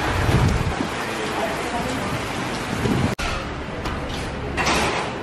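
Rain sound plays from shower speakers in a store, a steady broadband hiss of falling water with a brief sharp click partway through.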